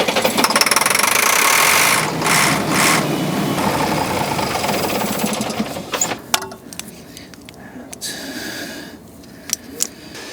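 A diesel motorhome engine cranks and runs on starting fluid, a loud, steady mechanical chugging that fills the first six seconds, then drops off into quieter clatter and a few sharp knocks.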